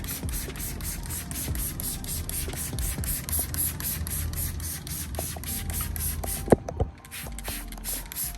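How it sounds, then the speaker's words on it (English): Rapid repeated spritzes of waterless wash from a trigger sprayer onto a dirty car, a rhythmic mechanical hiss-and-click pattern, close up, with a brief pause near the end. "let's go ahead and spray some of this on there"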